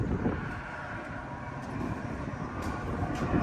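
A westbound Metra commuter train rumbles past at LaGrange on BNSF track with a steady roar of wheels on track, loud and continuous, with faint clanks rising toward the end.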